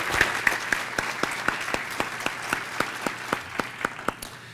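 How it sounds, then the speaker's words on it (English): A morning breakfast audience at an economic outlook event claps in steady, lively applause for two speakers, many hands sounding together with sharp individual claps standing out and no talk over it. "let's give a warm round of applause for both of our speakers this morning"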